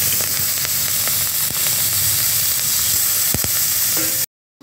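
Chopped onions sizzle steadily in hot oil that has just been used to fry potatoes with whole garam masala, a continuous loud frying hiss with a few sharp pops and crackles before it cuts off abruptly.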